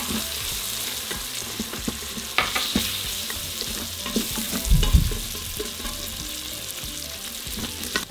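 Flour dissolving in hot oil in an Instant Pot sizzles with a steady frying hiss, broken by a few scraping stirs of a utensil.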